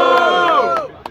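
Crowd at an a cappella samba battle in Vila Isabel shouting and cheering loudly for a contestant, a sustained roar of voices with rhythmic claps that tapers off near the end.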